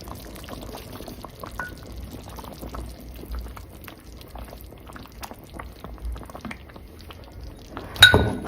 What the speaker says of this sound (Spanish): Ahorita le vamos a agregar un poquito más de agua